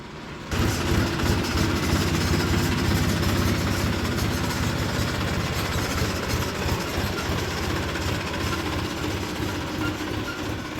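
A small Massey Ferguson tractor engine runs steadily at close range on a village farm, producing a loud, continuous low rumble with a rhythmic chugging texture that starts abruptly and holds throughout.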